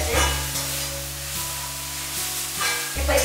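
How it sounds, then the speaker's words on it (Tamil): Steady sizzling of ingredients sautéing in a pan for payasam, with a low hum underneath and occasional stirring. "சரிங்க, இப்போ நல்லா வதக்கியாச்சு."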